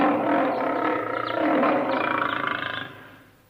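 A tiger roars as a sound effect in a Korean children's folktale, one long, loud, rumbling roar that swells and then fades out over a few seconds, with no talking.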